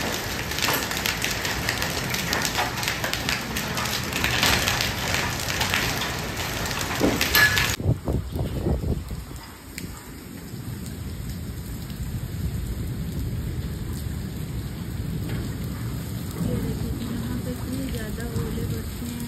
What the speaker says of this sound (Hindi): और बारिश भी बहुत तेज़ है, तूफ़ानी बारिश हो रही है।